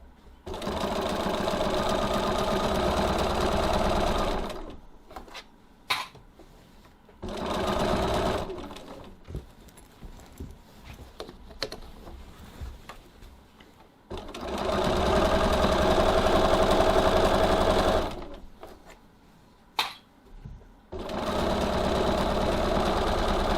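A sewing machine runs in long steady bursts, stitching through foam stabiliser on a tote bag base, its close whirring hum stopping and restarting several times with brief handling noises in the pauses.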